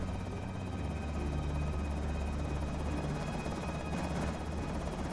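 A steady video game helicopter rotor drone, a continuous low thumping hum at moderate volume without pause.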